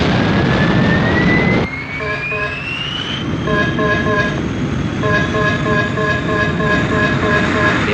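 A Thunderbirds aircraft taking off, with a loud, continuous engine roar and a rising whine that climbs in pitch, then settles into a steady droning with pulsing tones, close and sustained throughout.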